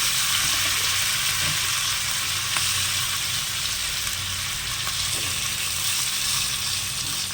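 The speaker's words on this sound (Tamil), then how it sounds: "இப்போ மீன் எடுத்து நம்ம அப்படியே தவாலை போட வேண்டியதுதான்" Steady, loud sizzling of sardines frying on a hot tawa griddle, continuous crackle with a few soft taps.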